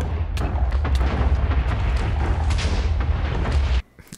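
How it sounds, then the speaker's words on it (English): Minecraft fireworks going off in a rapid, continuous barrage of booms and crackling bursts, loud and dense throughout before cutting off abruptly near the end, with no talking. "I hit the termination switch and just kind of watched the fireworks go"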